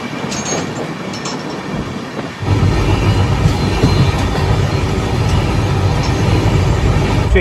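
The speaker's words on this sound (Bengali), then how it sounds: "আর ট্রেন ছুটে চলেছে নিজের গতিতে।" Saraighat Express running at speed, heard from inside an AC coach: a steady rumbling roar of wheels and carriage that grows louder after a brief dip, continuous with faint rattles and no talking.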